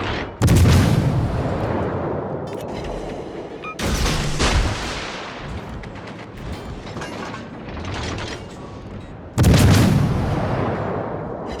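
Secondary guns on the Japanese battleship Fuso firing in World of Warships: Legends, three loud booming salvos with rattling mechanical clatter and rumbling tails between them, no talk.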